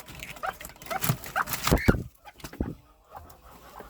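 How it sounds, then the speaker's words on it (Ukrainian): Ducklings hatched under a mother duck cheep in short, high bursts close by, with clucking fowl mixed in; calls come in uneven clusters and fade to quieter peeps. "Там каченята кричать"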